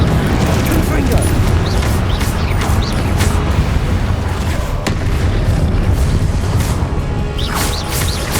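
Explosive spell blasts in Hogwarts Legacy, loud crashing booms layered over a constant dense bed of game effects, with bursts near 1 s, 5 s and 7 s.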